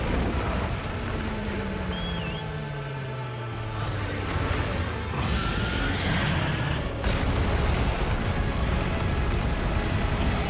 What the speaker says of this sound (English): He doesn't suspect a thing until the explosion happens.